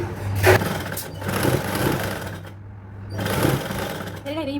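A sewing machine runs a line of stitches through dress lining for a princess-cut garment with a belt, its motor whirring steadily at close range. A voice speaks over parts of the stitching.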